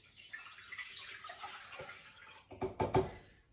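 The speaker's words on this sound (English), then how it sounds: "I've got 2 cups of coconut water. So I'm going to put that in the pot." Two cups of coconut water poured into a cooking pot, a soft trickling stream that builds into a few louder splashing gurgles near the end, close and fairly quiet.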